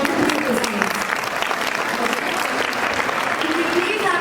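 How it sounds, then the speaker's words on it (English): Audience applause at a 2019 school annual prize distribution function, honouring a top-scoring student achiever; dense, steady clapping from a large crowd fills the whole stretch at even loudness. "Can we please have a huge round of applause for the achiever?"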